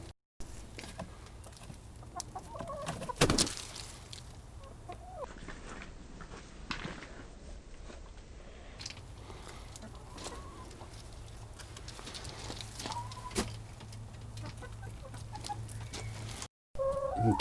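Hens clucking intermittently at close range over a steady low hum, with occasional louder bumps and clatter nearby.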